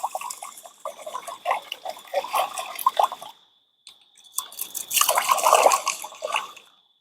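Rice is swished and rinsed by hand in a bowl of water in a Jamaican home kitchen, giving two bursts of sloshing and splashing separated by a brief pause.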